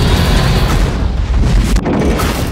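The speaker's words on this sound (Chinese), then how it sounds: "爆炸" An explosion sound effect from the trailer for the martial arts film Tai Chi Zero. It is a loud, rumbling boom with deep low-end roar that dips briefly and then keeps rolling.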